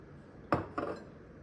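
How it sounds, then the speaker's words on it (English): A spoon stirs a honey and olive oil lip mask in a small bowl, giving two soft, quick clinks against the dish in an otherwise quiet room. "we're back to stirring"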